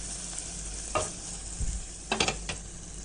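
Onions sautéing in a pan for a ghee and coconut milk biryani, with a low steady sizzle broken by a few short bursts of stirring scrapes, close and alone.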